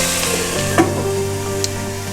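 Bottle gourd peel frying over medium heat with green chilies, a continuous moderate sizzle with a couple of brief knocks or utensil clatters, no talking.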